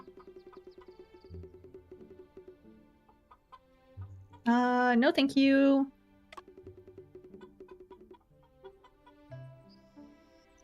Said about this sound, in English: there are 2 free-range chickens here